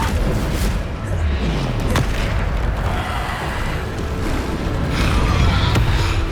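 Bombarda spell blasts in the Hogwarts Legacy video game, a dense run of booming explosions with sharp impacts over continuous rumbling combat noise.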